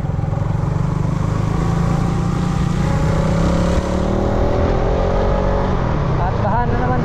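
A motorcycle engine drones loud and steady from very close throughout the ride, with a constant buzzing rumble and slight shifts in pitch as it moves along.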